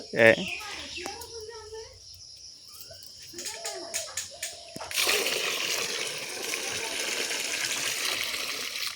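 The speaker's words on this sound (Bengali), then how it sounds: "দেখো বন্ধুরা আসামে এইভাবে জল তুলতে হয় পাতকুয়া থেকে" Water drawn by bucket from a village well in Assam: after a stretch of talking over birdsong, a sudden loud, continuous rush and splashing of water takes over and carries on to the end.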